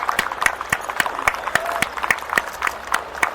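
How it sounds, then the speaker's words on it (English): A crowd at an air show claps steadily after Kent Pietsch's deadstick aerobatic routine and landing on a truck, with rhythmic close claps of several people blended with faint cheering, brief and continuous. "I hear people cheering"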